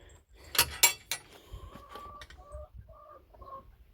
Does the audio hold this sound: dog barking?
no